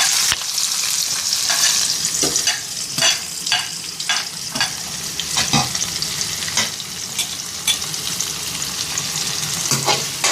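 Chopped onions frying in hot oil with mustard and cumin seeds for a spinach fry, a continuous close sizzle broken by repeated sharp stirring scrapes and clicks at an uneven pace, no voices.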